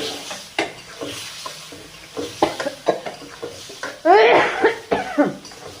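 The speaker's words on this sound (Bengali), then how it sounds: "ঝালের গ্যাসে শুধু লাগে কাশি" Several short coughs from chili fumes break out over a soft sizzle of fish frying, with faint stirring clatter between them.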